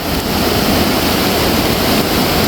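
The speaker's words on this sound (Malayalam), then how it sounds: "മഴയും വെള്ളത്തിൻ്റെ ശബ്ദമൊക്കെ ആയതുകൊണ്ട് നമ്മൾ വോയിസ് ഒന്നും അധികം ക്ലിയർ ആയിട്ടുണ്ടാവില്ല" Steady loud roar of rain and rushing floodwater on the Iruvanjippuzha river in spate, a continuous close wash of water noise with no talking.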